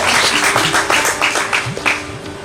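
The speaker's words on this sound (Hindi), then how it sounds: "एक बार जोरदार तालियां हो जाए।" Applause from a ceremony audience at a revolutionary commemoration event, a busy wash of clapping with some rhythmic pulsing and a few louder bursts, moderately close.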